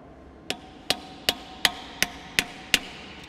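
A hammer drives a screwdriver used as a flat punch against a tab during a JBS wide body beater gearbox teardown, seven sharp metallic strikes at an even, steady pace, close and loud with no talking.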